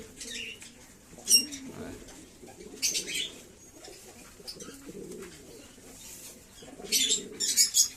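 Domestic pigeons coo softly and flap their wings during a morning feeding, low murmuring calls under several sudden bursts of close wingbeats.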